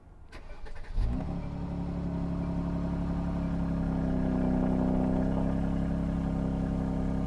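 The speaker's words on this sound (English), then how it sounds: "So there's a bit of an exhaust leak." A car engine with an exhaust leak starts and settles into a loud, steady idle with a rough, rumbling exhaust note, close by, with no talking.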